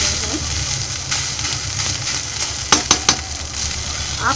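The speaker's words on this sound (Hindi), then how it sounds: "ये राइस फ्राई हो चुके हैं।" Rice fries in a pan with a steady, moderate sizzle. Near the end comes a quick run of three or four sharp clinks and scrapes from stirring.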